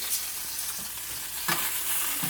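Sausages browning in a frying pan while a lentil stew is made give a steady, even sizzle, with a few soft stirring scrapes. No one speaks.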